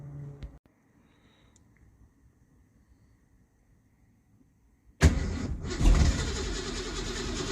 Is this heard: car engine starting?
yes